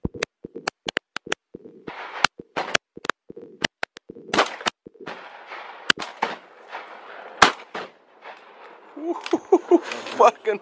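Shotguns fire during duck shooting in Southland, with many sharp, loud blasts going off in irregular bursts, some overlapping, while people talk and shout between the shots.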